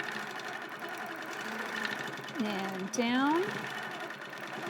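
Sewing machine stitching free-motion stipple quilting across a small scrappy star quilt block, a steady mechanical hum with a brief rise in speed near the end, under a voice talking.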